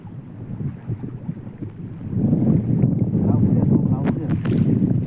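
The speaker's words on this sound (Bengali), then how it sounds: "তবে হাওয়াটা কিন্তু বেশ প্রচুর ছেড়েছে এই মুহূর্তে" Strong wind buffeting the microphone outdoors on a river after Cyclone Remal, a loud rumbling gusty roar that swells partway through, with faint voices underneath.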